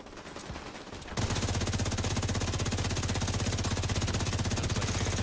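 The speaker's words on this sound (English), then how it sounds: "Looks like a mortar came in and hit me or something" Video game gunfire: after a quiet second, a loud, unbroken stream of rapid automatic shots that continues to the end.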